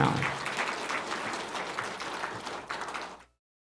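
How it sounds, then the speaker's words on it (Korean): Church congregation applauding during a Sunday morning service, a steady wash of many hands clapping at moderate level for about three seconds before cutting off abruptly. "일단 무슨 영문인지 모르겠지만 박수 한번 해주시기 바랍니다."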